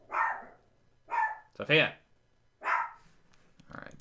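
A dog barks indoors in a run of sharp, close barks spaced about a second apart, with a person speaking briefly among them.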